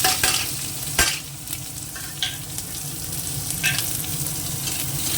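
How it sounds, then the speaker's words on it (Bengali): Dry red chillies and cumin sizzle and crackle in hot oil with a steady frying hiss, punctuated by a few sharp stirring clinks. "দিয়ে দেবো শুকনো লঙ্কা ফোড়নে দিয়ে দেবো একটু জিরে"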